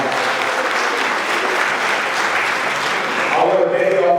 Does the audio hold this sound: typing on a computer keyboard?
no